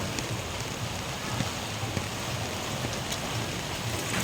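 Heavy rain pours steadily during a flood at a school building, a dense, continuous hiss with occasional louder splashes and faint wind noise on the microphone.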